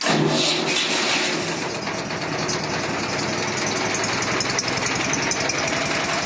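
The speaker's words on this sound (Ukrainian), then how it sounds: "Що мені подобається в Д-25, торкнув, завів, без проблем." The D-25 diesel engine of a Prykarpattia mini tractor started with its starter and running: a loud, steady, rough diesel clatter fills the whole clip, close and alone, with no one talking.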